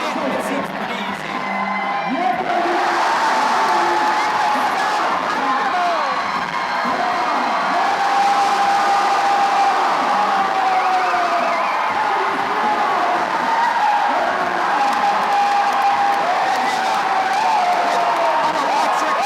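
A loud indoor crowd cheers, whoops and shouts continuously at a USA Climbing national cup bouldering competition, a dense roar with an announcer's voice talking over it throughout.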